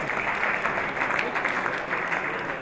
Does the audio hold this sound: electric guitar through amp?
no